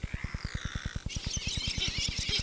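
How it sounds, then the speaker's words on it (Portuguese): Seabirds such as boobies and noddies call on Atol das Rocas, a remote Brazilian atoll. Harsh calls repeat in a rapid, steady rhythm, and a busy chorus of higher cries from the colony layers over them, close and fairly loud. "Os atobás ou sulas, esses pássaros que mais parecem patos, com os pés em forma de nadadeiras"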